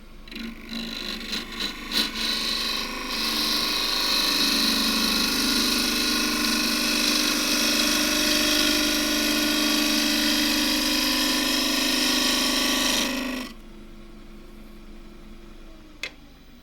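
A wood lathe spins as a deep-fluted bowl gouge cuts, giving a loud, steady whirring hum that holds evenly for about ten seconds and then drops off abruptly into quiet.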